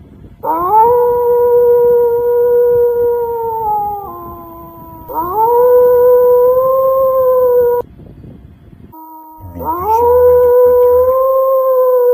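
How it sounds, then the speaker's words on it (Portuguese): A werewolf howl sound effect from an amateur short horror film, heard as three long, loud, sustained wavering howls separated by brief gaps, each rising then holding steady. "Dizem até que às vezes dá pra ouvir o uivo dele."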